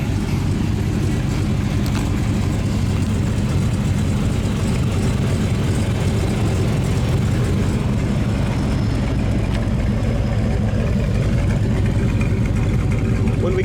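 A 1971 Chevrolet Monte Carlo, restored, with dual exhaust, rumbles at a steady idle, a deep continuous low drone heard close and loud throughout with no variation.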